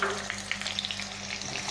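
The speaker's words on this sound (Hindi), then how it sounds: "अब इसमें हम प्याज शामिल करेंगे और फ्लेम मीडियम ही रखेंगे इसकी।" Chopped onions hit cumin seeds frying in oil in a pan over a medium flame, giving a steady close sizzle with faint crackles and a few stirring clicks, no voices.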